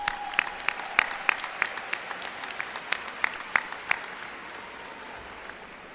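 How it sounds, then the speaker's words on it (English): A college commencement audience gives a round of applause, scattered sharp claps standing out over a steady wash of crowd clapping that gradually thins and fades. "Let's all give them another quick round of applause."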